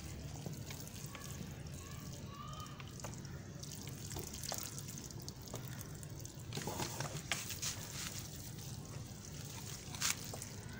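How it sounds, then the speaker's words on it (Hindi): Water poured onto freshly potted coleus plants in a home garden, a soft continuous trickle and patter with occasional drips, faint and heard alone. "अब हम इसमें वाटरिंग करेंगे।"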